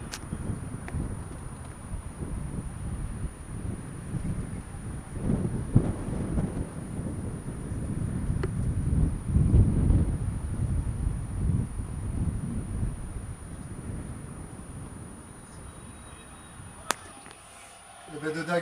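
Storm wind gusts and roars outside a sailboat during a crossing from Ajaccio to Porquerolles, heard from inside as a low, surging rumble that swells and fades, with some clatter and knocking near the end.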